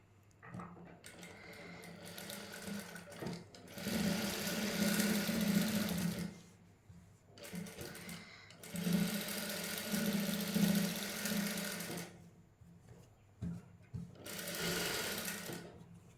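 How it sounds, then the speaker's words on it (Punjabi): A sewing machine stitching a shirt hem, running in three long bursts of steady whirring with quiet pauses between them. "ਹੁਣ ਇਸ ਤੇ ਵੀ ਉੱਪਰ ਸਲਾਈ ਲਾ ਦਾਂਗੇ"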